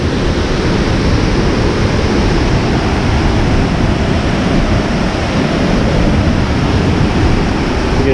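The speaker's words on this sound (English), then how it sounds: "Still a good bit of water running through the main river here." River water rushing near Rainbow Falls, a loud, steady, broadband roar with no pauses, close by and filling the whole scene, no talking.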